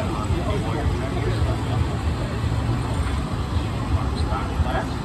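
The Haywire stock-class pulling tractor roars in a continuous loud, rumbling engine drone at an Ontario County Fair tractor pull, steady and dense throughout.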